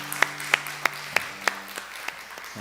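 A congregation at a Methodist church claps for its teachers in unison, with five crisp, evenly spaced claps that then fade over a faint sustained tone.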